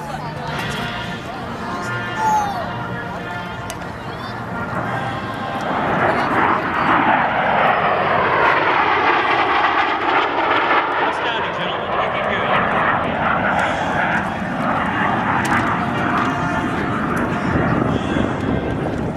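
Two jets, a MiG-15UTI and a T-2B Buckeye, make a photo pass at an air show; the roar builds from a distant whine to a loud, sustained jet rumble that peaks overhead and lingers as they pass, with crowd chatter underneath.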